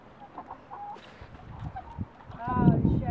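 Chickens cluck softly and a rooster calls out, with farmyard bird noises building toward the end over a low, busy background.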